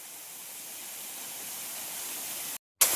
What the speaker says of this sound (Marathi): खतरनाक धबधबा आपला आपण धबधब्याच्या खालती आहोत